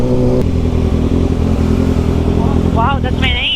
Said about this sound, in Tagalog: Siyempre, ma'am, malaki yung motor, malaki yung makina.